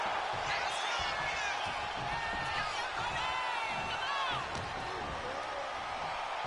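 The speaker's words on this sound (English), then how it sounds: "And Bulldog is revving this crowd up" Video game arena crowd at a WWE 2K25 wrestling match, a steady roar of cheering and whoops filling the whole stretch, with a commentator-like voice talking over it.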